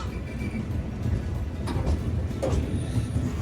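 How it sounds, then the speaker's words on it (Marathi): The Mangala Lakshadweep Express arrives at a station platform late at night, with a steady low rumble of rolling coaches and faint squeals and clanks over the hum. "ही कुठली आली आता मंगल मंगला लक्षद्वीप एक्सप्रेस"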